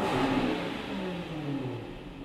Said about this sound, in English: The car's a very loud car because it's got a supercharged engine, it's got a great exhaust